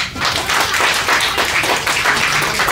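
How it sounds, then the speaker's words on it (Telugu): Audience applause at a Telugu film trailer launch event, a dense, steady wash of many hands clapping that fills the whole stretch without a break. "ఒకసారి క్లాప్స్ కొట్టాలండి"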